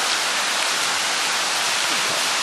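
Water rushing steadily in a small stream at Ang Phak Nam waterfall, a loud, even broadband roar up close with no voices.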